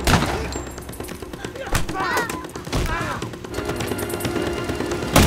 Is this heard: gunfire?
yes